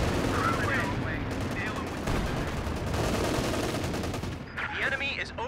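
Bursts of machine gun fire crackle in a Company of Heroes 2 battle, overlapping with scattered gunshots and distant explosions amid busy battlefield din, with a voice talking at moments.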